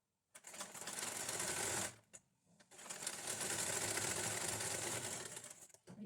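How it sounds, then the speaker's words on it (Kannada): A sewing machine runs steadily while stitching a lining blouse, a close continuous whirring rattle that stops briefly and then starts again for a second long run, with no voice over it. "ನೋಡಿ, ಇದಕ್ಕೆ ನಾನು ಇಲ್ಲಿ ನೀಟಾಗಿ ಒಂದು ಸ್ಟಿಚ್ ಹಾಕ್ತೀನಿ."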